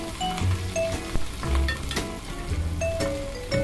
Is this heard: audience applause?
no